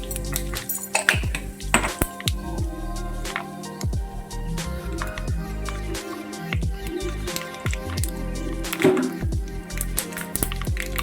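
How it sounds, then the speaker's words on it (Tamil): Mustard seeds and cumin splutter in hot oil in a pan for a drumstick and ridge gourd sambar, giving dense rapid pops and crackles throughout, close and loud with no talking. "கடுகு நல்லா பொரிய ஆரம்பிச்சிருச்சு."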